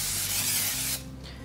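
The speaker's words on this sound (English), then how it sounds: "I'm gonna spray the top of my silicone liner with it just a little bit." Olive oil cooking spray hisses onto a silicone air fryer liner in a short, close burst of about a second, then cuts off abruptly over a faint low hum.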